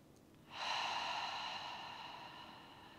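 Ujjayi breathing during a yoga session: one long, close, airy breath with a soft oceanic hiss that starts suddenly and then slowly fades, alone in a quiet room.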